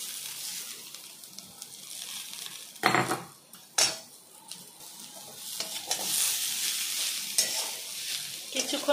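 Vegetables and spices for kundali alu posta stirred in a frying pan, a low continuous sizzle broken by a few sharp scrapes and knocks of a spoon on the pan, with no voices.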